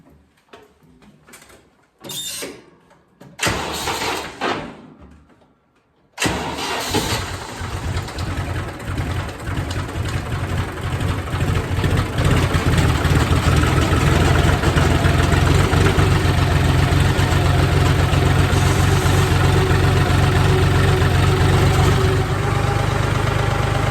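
In cold weather a diesel tractor cranks with a few stuttering bursts and pauses, then catches and settles into a loud, steady knocking idle that continues close by.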